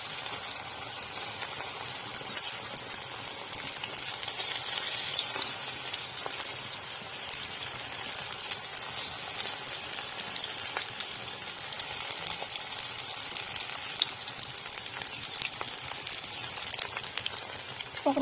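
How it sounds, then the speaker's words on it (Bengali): Chicken pakoras frying in hot oil make a dense, even, rain-like crackle that runs steadily throughout at moderate loudness, with no voices. "গরম তেলের মধ্যে দিয়ে দেবো"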